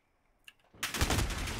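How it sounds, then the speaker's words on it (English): Video game gunfire bursts in suddenly after near silence and a faint click, becoming a loud, continuous rapid rattle of shots that runs to the end. "I'm shooting at him right now."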